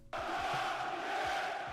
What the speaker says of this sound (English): Handheld fireworks in the middle of a crowd?